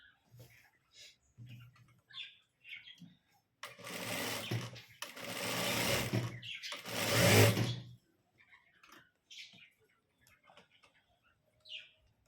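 A sewing machine stitches a shoulder sleeve in three loud bursts, two long runs and a final one, with quiet clicks, small bird-like squeaks and soft handling sounds in the pauses between.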